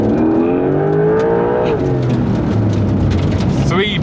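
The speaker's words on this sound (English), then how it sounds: "Launch control activated, here we go." Porsche 911 GTS T-Hybrid under launch control, a loud continuous engine roar rising steadily in pitch through a gear, with a brief dip at a shift and tyre slip off the line, close and unbroken.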